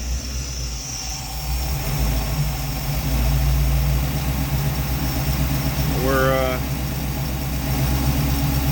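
A 1958 Ford engine idling with a steady, low, rumbling drone throughout, and a brief higher chirp near the end.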